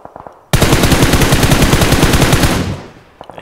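A gun with an angle grip fires a loud, sustained automatic burst in PUBG Mobile, rapid shots blurring into one continuous roar for about two seconds before trailing off.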